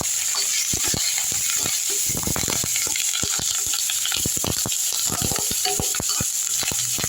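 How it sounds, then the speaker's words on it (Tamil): Curry leaves, green chillies and ginger frying in a little oil, a loud, constant hiss thick with rapid popping and crackling bursts up close. "இப்போ இந்த கருவேப்பிலையும் பச்சை மிளகாவையும் எடுத்து இதில் போட்டுக்கலாம்"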